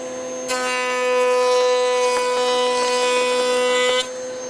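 A woodworking power tool cuts a pattern into a small raised panel with a loud, steady tonal whine for about three and a half seconds, with faint clicks as the wood is fed.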